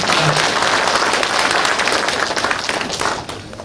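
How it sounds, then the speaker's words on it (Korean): Loud, sustained applause from an audience at a county government event in Buyeo as department heads are introduced, a dense wash of many hands clapping that tapers slightly toward the end. "큰 박수 부탁드리겠습니다."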